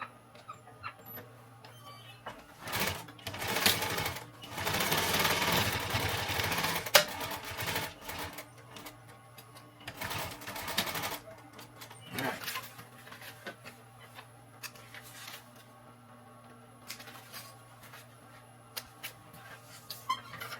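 A sewing machine stitches over a backpack seam in bursts, with one long run of stitching near the start and shorter runs after, set among handling noises and quiet gaps.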